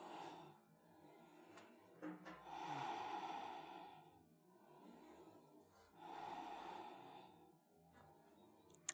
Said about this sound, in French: Et on prend quelques grandes respirations ici.